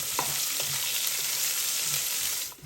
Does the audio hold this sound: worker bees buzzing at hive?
no